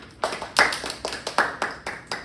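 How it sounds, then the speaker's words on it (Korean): Rhythmic hand clapping in a small classroom-style book presentation: about ten sharp, evenly spaced claps from a few people, fairly close and clear with no talk over them. "네, 이제 박수!"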